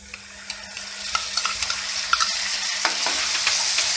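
Onion sizzles in a hot pan as tomato, ginger and chili paste are added, with steady frying hiss and repeated light stirring scrapes, close and fairly loud, no talk.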